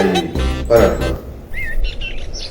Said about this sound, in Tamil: குருவி பறந்து போச்சு.